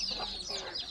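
Free-range village hens on a farm make a brief run of soft, close clucks over steady outdoor ambience.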